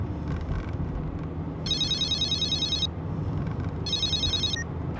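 A car phone rings in two bursts of electronic trilling, the second starting shortly after the first ends, heard over a steady low rumble of background noise.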